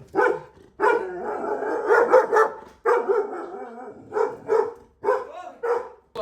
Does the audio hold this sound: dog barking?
yes